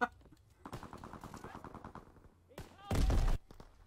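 Automatic gunfire in Call of Duty on the Shipment 1944 map, a fast, even run of close shots followed by a short, loud, dense burst near the end.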